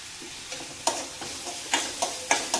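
Onions sizzle softly in a hot pan while a utensil scrapes and clinks in several sharp stirring strokes.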